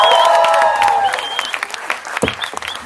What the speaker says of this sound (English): let's have a big round of applause for our friend and director, producer of this film